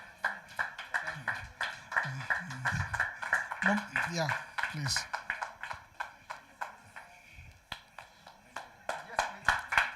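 An audience applauding at a World Health Summit regional meeting, a steady patter of hand claps that thins out and then returns, with a voice speaking over it.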